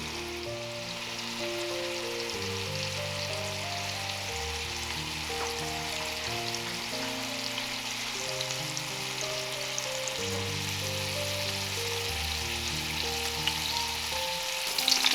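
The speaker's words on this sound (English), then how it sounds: "So we're going to cook each side for about 2 to 3 minutes or until it's golden brown." Salmon sears in a hot pan with a constant close crackling sizzle that holds steady throughout, while soft background music plays underneath and no one speaks.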